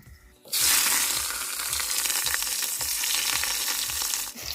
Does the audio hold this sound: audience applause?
no